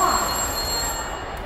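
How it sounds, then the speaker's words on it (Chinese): A telephone rings steadily at a live stage conference event, its bell tone held over continuous room and crowd noise. "是谁打电话？"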